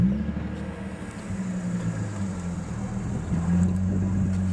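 A car with a newly installed throttle controller driving along, with a steady low engine drone and road rumble throughout, rising slightly in level near the end.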